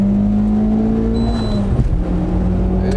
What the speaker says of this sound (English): It just revs all the way up.